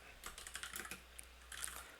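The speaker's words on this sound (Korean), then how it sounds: "여러분 제 타이핑 치는 속도 따라오려고 하시면 안 돼요" Quick, steady keystrokes clatter on a computer keyboard while someone writes Python web code, producing a soft, close run of rapid taps with no voices.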